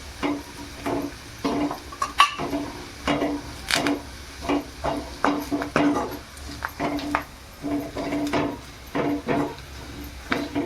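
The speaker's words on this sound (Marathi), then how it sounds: "आता हे खोबरं फेटून घ्यायचं यात टाकून, ते पण तेलात चांगलं परतायचं." Grated coconut sautéed in oil alongside onions for a spicy brinjal and potato curry, with a spoon stirring and scraping the pan in a steady, close rhythm of clinks over a soft, continuous sizzle.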